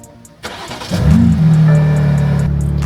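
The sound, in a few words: BMW G80 M3 Competition engine starting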